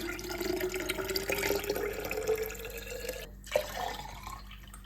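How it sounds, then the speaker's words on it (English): Cold water poured into a container for a chia seed drink, a steady close trickle and splash with dripping, ending with a brief thud. "Next, I'm going to add water, 1 liter water."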